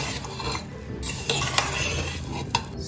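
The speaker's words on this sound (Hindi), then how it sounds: "अच्छी तरह मिक्स करें।" A resha kabab mixture is stirred with chili powder and salt in a pot. There is continuous close scraping and rustling with a few sharp clinks from the utensil against the pot, and no talking.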